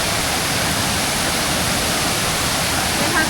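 The Tad Keo Muong Kout waterfall in Laos roars steadily beside a restaurant, a loud, unbroken rush of falling water filling the whole stretch with no pauses.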